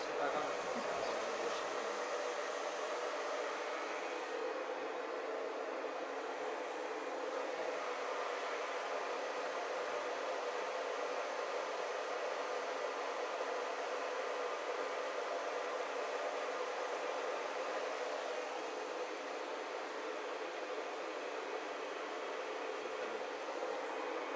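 Handheld hair dryer blow-drying hair during a haircut, a steady loud whooshing airflow that runs continuously from start to finish with almost no change in level, and a voice faintly speaking beneath it.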